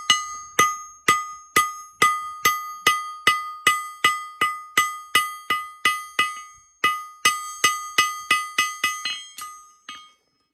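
A farrier's hammer strikes a horseshoe over and over, about two dozen sharp, ringing metallic blows in a fairly regular rhythm that slows and stops near the end.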